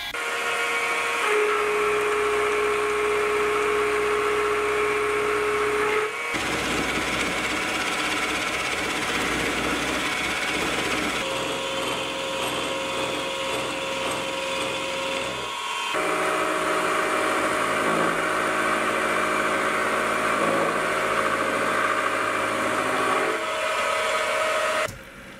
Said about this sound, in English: the rest of the cleanup with these roughing end mills